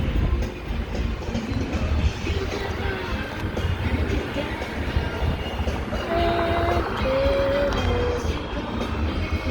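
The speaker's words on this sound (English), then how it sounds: "Look at CSX Intermodal." A CSX intermodal freight train rumbles past nearby in Delaware, a steady loud roar of wheels and cars with a low drone throughout and faint tonal squeals or horn-like notes late in the pass.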